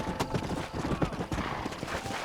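Horse hooves clip-clop in Red Dead Redemption at a ranch, an uneven run of soft thuds from a walking horse, close and moderately loud, with faint voices underneath.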